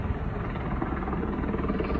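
A helicopter circles over mountains in Norway, carrying loads for power lines. Its rotor and engine drone comes through as a steady, distant rumble with no talking.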